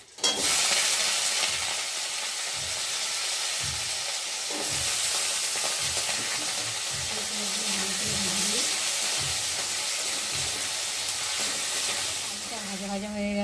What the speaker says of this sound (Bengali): আর দেবো আলুগুলো ভালো করে দিয়ে ভেজে নেব।